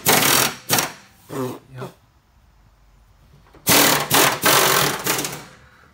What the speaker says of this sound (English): I'm gonna finish taking all these bolts out of here.